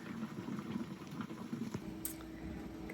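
Jars of caramel boiling in a water-bath canner, a steady, close bubbling and rolling simmer that runs evenly throughout with faint clinks and no voices.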